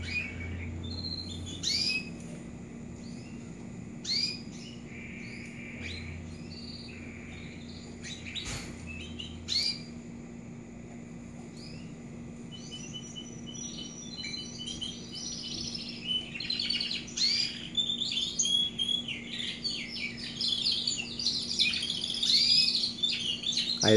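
Young timbrado canaries warble and chirp continuously, with bright trills that build in density and loudness over a steady low hum.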